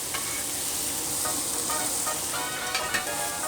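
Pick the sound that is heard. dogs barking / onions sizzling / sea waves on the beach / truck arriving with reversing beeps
onions sizzling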